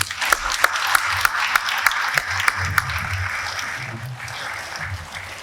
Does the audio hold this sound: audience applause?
yes